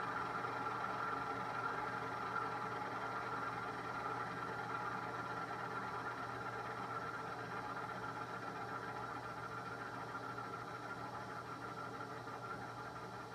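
Turboprop engine of a King Air 350 shutting down in the X-Plane flight simulator, a steady droning hum and whine with low rumble, gradually easing slightly in level, with no talking.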